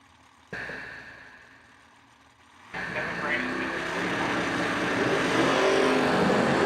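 An S10 and the Killing Time Mustang launching at a drag strip event, with a sharp engine burst, a brief dip, then a loud, sustained roar building as the cars pull away.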